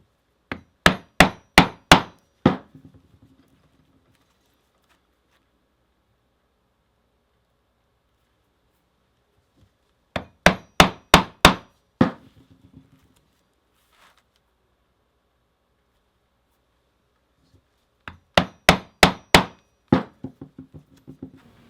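Stitching holes are punched through overlapping leather seams of a zip wallet with sharp, close strikes in three bursts of about five rapid blows each, separated by long quiet pauses.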